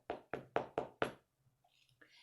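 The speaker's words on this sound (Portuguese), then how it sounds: "Então ele bateu a porta." A door knocked five times in a quick, even series of loud, close raps, followed by a few faint, soft sounds.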